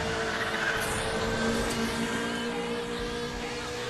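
A car accelerates in the racing game Need for Speed The Run, with a continuous engine roar and a faint tire whine at a steady level and no voices.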